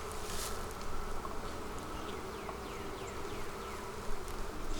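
Honeybees in a very strong beehive hum in a dense, steady buzz close by, with a few individual bees zipping past, continuous and unbroken throughout.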